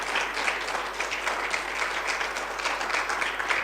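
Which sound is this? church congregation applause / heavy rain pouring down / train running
church congregation applause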